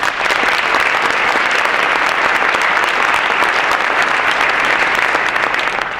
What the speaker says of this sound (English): So I'd like you all to give a round of applause to Huntington Bank.